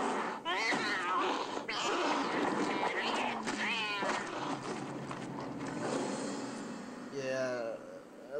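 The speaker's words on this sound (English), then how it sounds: "And here we go with the cat." Cat meowing in the video game AVP Alien, several drawn-out wavering meows over a busy game background, fairly loud and close, with a final meow near the end.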